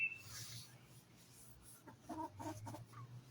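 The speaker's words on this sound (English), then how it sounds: "I'm going to let you see the chickens for a second while I keep going" Chickens cluck in soft, scattered bursts, fairly close, with a steady low hum underneath and no one speaking.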